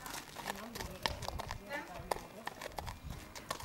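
Horse hooves clip-clopping at a slow walk as the horse approaches a trailer, an uneven series of hard knocks, with voices and background noise underneath.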